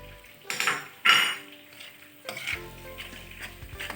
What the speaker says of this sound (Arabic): هقلب كل ده على بعضه